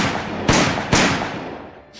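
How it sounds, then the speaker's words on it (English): Two loud gunshots from the film Mary and Max, a half-second apart, each with a sharp crack and a long reverberant tail, followed by a fainter pop near the end. "Gunshots immediately, okay."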